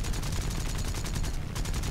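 Rapid machine-gun fire from a Zero fighter's 7.7mm guns in an arcade air battle, a loud continuous stream of shots with a fast, even rhythm and no talk over it.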